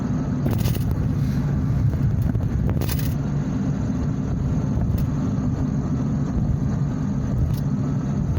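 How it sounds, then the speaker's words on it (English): A car cruising along a country back road in Indiana, its steady low engine and tyre rumble filling the cabin continuously, with a few faint clicks and rattles above the drone. "Today we're just doing some more back road country driving."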